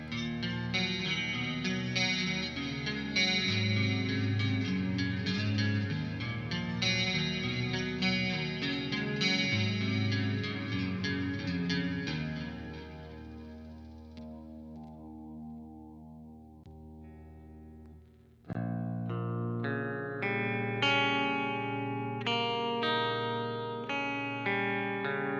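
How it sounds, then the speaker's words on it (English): Distorted electric guitar through a Fortin Nameless amp patch on an AX8, colored with chorus, delay and reverb, plays loud sustained chords and riffs, fades into a ringing tail, then strikes back in abruptly with a fresh phrase. "on scene 6, it's the same thing with some chorus delay and reverb for some spaciness"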